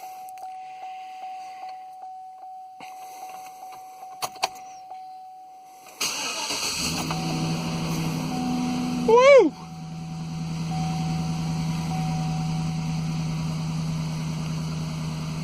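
A 2012 Chevy Silverado 1500 4x4 with the 5.3 engine chimes with the key on, then cranks, fires with a loud revving flare and settles into a steady close idle, with a brief shout as it catches.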